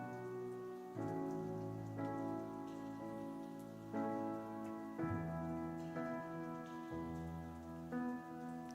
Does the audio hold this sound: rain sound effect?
yes